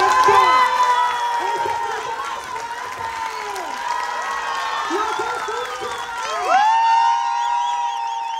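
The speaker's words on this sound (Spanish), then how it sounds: "Otro fuerte aplauso a cada uno de los artistas que tenemos aquí" A crowd of parents claps and cheers for child performers at a football and theatre event, with excited children's shouts and whoops layered over the applause, which swells again toward the end.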